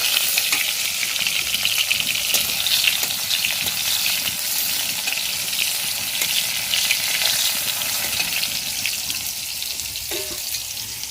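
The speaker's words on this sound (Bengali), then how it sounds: "পটলটাও দেখো হালকা করে ভেজে নিয়েছি" Lengthwise-cut pointed gourd (potol) slices fry lightly in hot oil, giving a steady, close sizzle and crackle that holds at an even level throughout with no talking.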